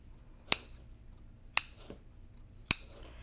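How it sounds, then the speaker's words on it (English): Three crisp, isolated snips of scissors clipping quilted fabric around the curved corners of a stocking, spaced roughly a second apart, close and clear in a quiet room. "Then I'm gonna clip around the corners."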